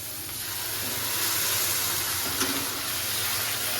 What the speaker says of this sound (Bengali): টমেটো জুসটা এখন দিয়ে দিচ্ছি